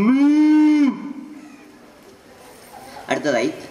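A mimicry artist at a school arts festival voices a cow's moo, one loud, steady, low call about a second long, followed by quieter crowd noise and a brief burst of voices.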